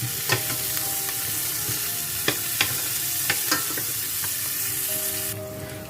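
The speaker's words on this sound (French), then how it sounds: "Dès que mes oignons auront blanchi, je vais les retirer." Onions fry in a pan for a Cameroonian-style tomato sauce, a close, steady sizzle punctuated by several sharp clacks and scrapes of a utensil stirring against the pan.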